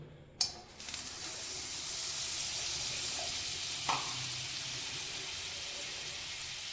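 A sharp clatter followed by a steady, even sizzle of butter melting in a pan for butter chicken, with a small clink partway through.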